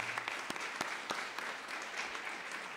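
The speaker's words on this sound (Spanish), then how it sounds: "¿Le damos un aplauso a Vivian?" At a forum on rare diseases, a hall audience gives a faint, distant round of applause, soft steady clapping with a few sharper claps standing out near the start, heard for a few seconds.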